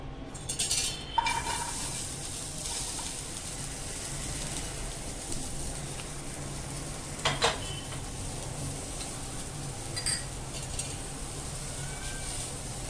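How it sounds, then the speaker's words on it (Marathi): Chopped onion frying in two spoons of oil in a pan over low heat while being stirred, for a Malvani egg curry; a soft steady sizzle with a few brief utensil scrapes and clinks, close by, no talk. "कांदा गुलाबी होईपर्यंत आहे ना बारीक गॅस करून ना सतत ढवळत राहून छान असा भाजून घेऊया"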